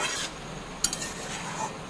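Paneer pieces are stirred in a pan on the stove, giving a soft scraping and sizzling hiss with a couple of light utensil clinks, close and brief with no voices.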